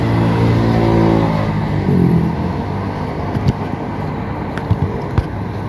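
A misfiring motorcycle engine is revved hard, then drops back to a rough, loud idle rumble close by, with occasional sharp pops and ticks over the steady drone.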